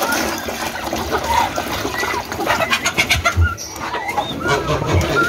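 Newly hatched ducklings make small, faint peeping calls near a water dish on a farm with hens. The scattered chirps sit over rustling and splashing noise.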